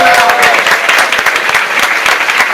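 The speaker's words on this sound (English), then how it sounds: "Can we give them one more round of applause?" Loud, dense applause from an audience at a 2016 school animal presentation, continuous clapping close by throughout, with faint voices mixed in at the start.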